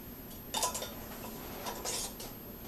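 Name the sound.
screwing metal rings onto glass canning jars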